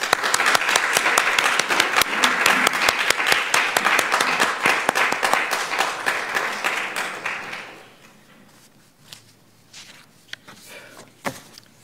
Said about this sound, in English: Let us all stand and give Pastor Clyde a round of applause for his faithful service